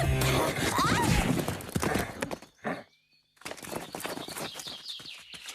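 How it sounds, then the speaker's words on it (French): Cartoon draft horse hooves clip-clop loudly and busily among whinnies and bird chirps, followed by a brief pause and then more hoofbeats. "la délicatesse d'un cheval de trait"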